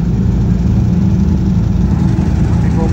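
Sport motorcycles, Kawasakis and Ducatis, at a trackday at Buddh International Circuit, their engines making a loud, steady, unbroken rumble close by.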